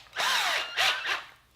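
A power drill bores a 3/8 inch hole in a plastic ride-on toy car body, two or three short close whirring bursts that rise and fall.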